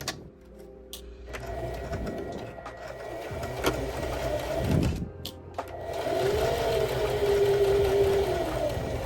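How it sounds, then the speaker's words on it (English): A sewing machine stitching diagonally across tote bag fabric, heard as a steady mechanical whir that stops briefly and then restarts, with a faint high whine while it runs, close and fairly loud, with no talking. "you're going to stitch diagonally across"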